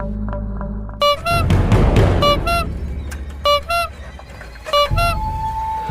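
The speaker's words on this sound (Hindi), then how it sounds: "एक रिक्शा हॉर्न देते हुए आया।" Several short honks from a rickshaw horn, repeated in bursts over steady traffic rumble, close and loud, in an animated Hindi ghost story.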